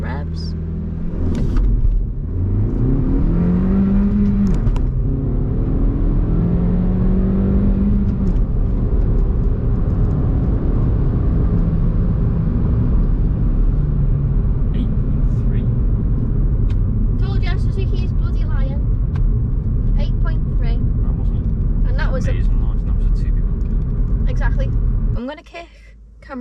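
A 2022 Suzuki Swift Sport hybrid hot hatch launches at about 2,500 rpm, its engine revving and pulling hard, pitch sweeping upward through the gears in a loud, continuous roar, with a brief voice at the end.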